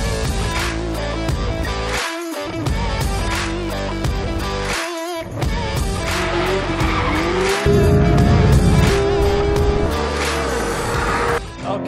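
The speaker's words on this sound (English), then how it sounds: "Listen to that engine." Porsche GT3 RS engine on the Nürburgring Grand Prix circuit, loud and continuous as it revs hard through the gears, with two sharp drops at upshifts before a sustained high-revving wail and a tire squeal, no talking.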